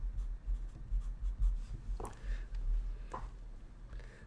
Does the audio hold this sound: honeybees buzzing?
no